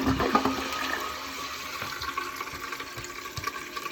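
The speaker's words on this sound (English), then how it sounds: "we'll open the toilet, give it a flush" A household toilet flushing after its internal parts and wax ring were replaced, a steady close rush of water running through the whole stretch with no talking.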